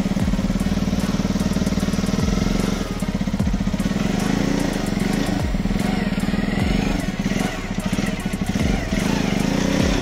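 A motorcycle engine runs on gas fuel instead of petrol, idling loudly and close with a steady, rapid mechanical pulse and some clatter. Brief throttle dips come and go, and the engine sounds alone for the whole stretch.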